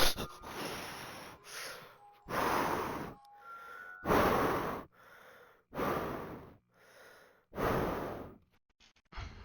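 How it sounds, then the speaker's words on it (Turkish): Heavy, loud monster breathing from the horror video game Tung Tung Sahur, a series of long rasping breaths and sighs that repeat with short pauses between them. "Domuz gibi nefes alma ne çocuğu."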